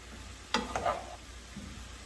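A few quick scraping stirs of vegetables and mushrooms with soy sauce in a frying pan, using a tablespoon, with a faint sizzle underneath, short bursts then quiet, close by and soft.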